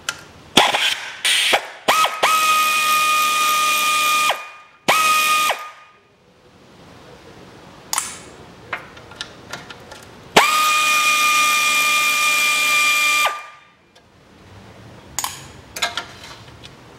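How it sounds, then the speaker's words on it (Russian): Ratchet wrench with a 10 mm socket spinning out the CVT oil pan bolts on a 2008 Nissan Qashqai 2.0 4WD, two long loud bursts of fast ratcheting with short clicks and pauses between, close up. "Ну и откручиваю по кругу поддон."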